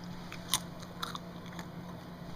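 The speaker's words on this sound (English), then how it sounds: "You can hear me crunching on them." Dried apple chips, red and golden varieties, crunch in a few sharp, close bites over soft steady background hum, with no talk.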